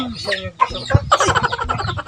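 Chickens cluck in short, irregular bursts, close by, mixed with lively talk from people nearby.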